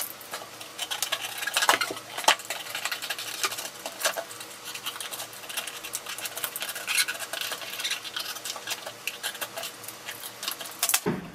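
Scissors cut through a cardboard shoebox, close-up, with irregular crisp snips and rustling cardboard, louder sharp cuts early and again near the end, no voices.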